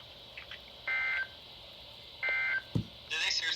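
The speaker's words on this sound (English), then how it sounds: "the warning alarm will only be activated for warnings in selected watches affecting the listening area" Emergency Alert System warning tones sound on a broadcast as two short bursts of steady beeping, followed by a brief low thump and a harsher noisy burst at the end.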